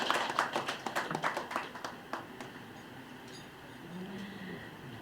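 A small audience claps for prize winners at an anniversary and memorial event, brisk rhythmic applause that thins out after a few seconds into scattered claps and room noise.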